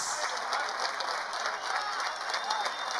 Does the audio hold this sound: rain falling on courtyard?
no